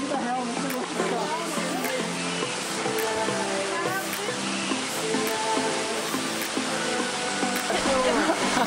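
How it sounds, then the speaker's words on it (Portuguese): Cachoeira do Abismo waterfall on a trail roars with a dense, steady rush of falling water, loud and close throughout, and voices are faintly mixed in. "agora na Cachoeira do Abismo de novo"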